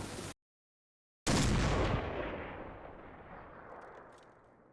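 A single loud gunshot in a video game cracks out after a moment of silence, then rolls away in a long echoing tail that slowly fades.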